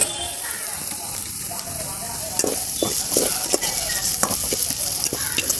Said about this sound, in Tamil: நெக்ஸ்ட்டு பச்சை மிளகாய் ஆட் பண்ணிக்கலாம்